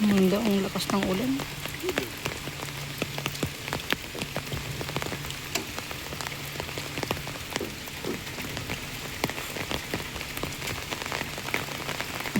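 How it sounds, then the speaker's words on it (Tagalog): Steady heavy rainfall drums on a surface close by, a dense unbroken patter throughout, with a brief voice at the start. "Hindi ang lakas ng ulan."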